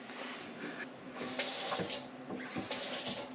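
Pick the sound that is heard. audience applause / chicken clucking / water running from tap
water running from tap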